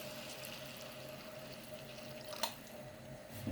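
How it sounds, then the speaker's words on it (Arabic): Water pours steadily into a pot of basmati rice, a faint continuous trickling stream with one small splash partway through. "وهكمل بقى الميه بتاعتنا عادي لغايه ما نغطي بس الرز"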